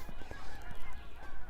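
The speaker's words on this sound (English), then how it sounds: "I hear a lot of geese somewhere." Geese honk in a repeated, overlapping flock chorus beside a creek in Regina in April, moderately distant and steady.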